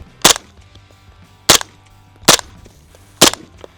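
An MP7 submachine gun fires four sharp, loud single shots at uneven intervals outdoors, each a close, cracking report with a short decay and quiet gaps between, with no talking.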